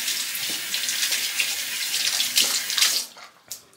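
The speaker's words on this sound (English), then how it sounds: "I'm gonna get in the shower now." Shower water runs in a steady hiss close by, alone, then falters and cuts off, followed by a brief splash or drip.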